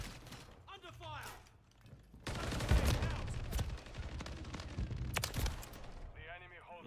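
Bursts of video-game gunfire crackle and rattle continuously, with dense volleys and sharper isolated shots, while voices talk over the shooting.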